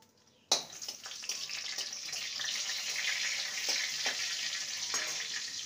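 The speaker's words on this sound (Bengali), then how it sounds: "ফোড়নটাকে কয়েক সেকেন্ড ভেজে নেব" Black cumin, a dried red chilli broken in two and a bay leaf hit hot oil for a Bengali tempering, bursting into a loud, steady sizzle that crackles on alone for several seconds after a sudden start.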